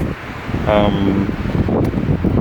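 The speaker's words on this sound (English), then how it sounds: "It's like really windy, so, but it is getting slightly better." Strong wind blows across a campsite, roaring and buffeting against the microphone with loud, fluctuating gusts while a voice briefly sounds partway through.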